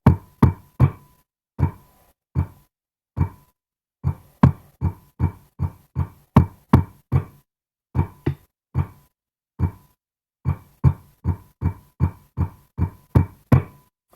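Crisp single taps on a pipe band side drum, evenly spaced in short bursts with pauses between groups, close and dry with no other sound.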